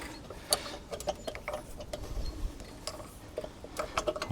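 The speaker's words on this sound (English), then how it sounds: "put your crank in, your crank spanner, and then just tighten that up onto the wheel" A crank spanner turns to tighten a TURNART universal wheel lock onto a car wheel, giving sharp mechanical clicks and ratcheting ticks at an uneven rhythm, close and moderately loud, with no talking.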